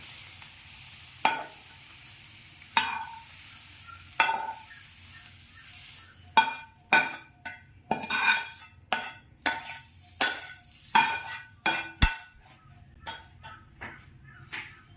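Vegetable filling for veg Mughlai paratha, seasoned with salt and chaat masala, being stirred in a pan, giving repeated close scrapes and clinks of a spoon against metal, sparse at first then quicker, with a faint sizzle underneath.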